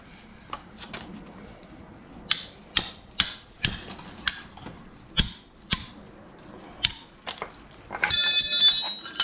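A crescent wrench works on an outer tie rod end of a 2003 Dodge Ram 1500. Sharp metallic clacks and clicks come in an irregular series, close by, and a harsher rattling clatter follows at the end.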